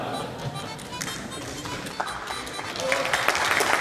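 A group of people applauds in a Korean parliamentary meeting hall, producing a dense patter of clapping that swells toward the end, with voices murmuring underneath.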